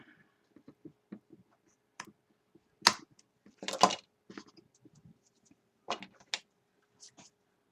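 Scattered snips and dry clicks of glue-covered scissors trimming pieces for a craft purse, a few sharper crisp cuts among quieter taps, close by with no talking.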